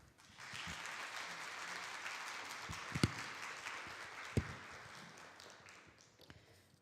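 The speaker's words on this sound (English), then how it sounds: "please welcome her with a big round of applause" An audience at a climate and health symposium claps steadily in a sustained round of applause, with a couple of sharper claps standing out before it gradually fades.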